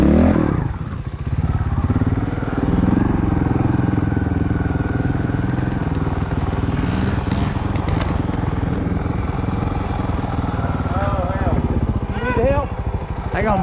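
Montesa 300RR trials motorcycle clambering over logs, its engine popping and revving in short bursts with clattering and scraping of tyres and frame on wood, close by, with voices talking over it.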